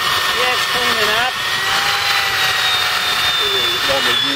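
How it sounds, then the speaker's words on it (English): A steel wire brush scours rust off a stainless steel anchor in a continuous, harsh, loud hiss and whir with no breaks. "Let's see if I can get some of this rust off this stainless steel anchor."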